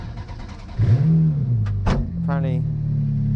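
A Ferrari 430 GT3 Challenge race car engine rises in pitch as the car pulls away, close and loud, with brief talk over the start and a steady engine drone afterward.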